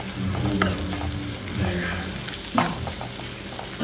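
Green chillies sautéing in a pan over medium flame give a steady close sizzle with scraping stir strokes and a sharper clatter near the end, no talk.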